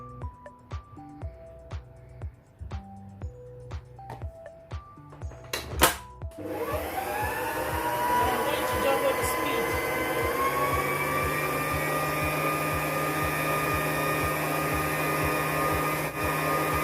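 Electric mixer beating vanilla sponge cake batter with eggs, kicking in after a few seconds of soft clatter and then running as a steady, loud whirring drone without talk.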